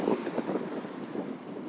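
Gusty wind buffets an outdoor microphone on a windy day, a steady low rumbling roar with soft irregular thumps, loud and continuous throughout with no talking.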